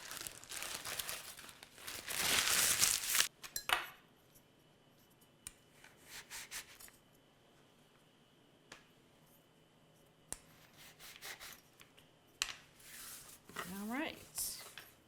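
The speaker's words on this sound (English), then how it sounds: "While I'm at it, I might as well cut the 4 tops." A knife cuts four puff pastry tops for rustici, giving rough scraping and crinkling strokes in short bursts with pauses between them, close by and fairly quiet.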